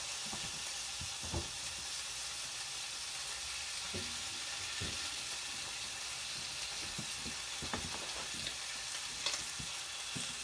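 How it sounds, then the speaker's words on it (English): Bacon sizzles and crackles in a frying pan while cooking for a bacon cheddar cheeseburger, a steady dense hiss with scattered sharp pops and spatters throughout, close up and without voices. "Drop it into the pan. Now that sizzle is just sexy."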